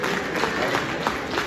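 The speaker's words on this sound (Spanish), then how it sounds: "Denle el aplauso a los hombres, denle el aplauso a los hombres." A church congregation applauds the men with steady, dense clapping throughout, a continuous wash of hands under a lively crowd atmosphere, with a voice speaking over it.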